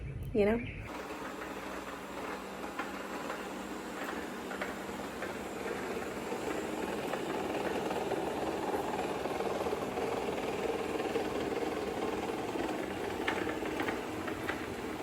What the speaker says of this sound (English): I can sacrifice my peace of mind for a couple of hours while the robot vacuum runs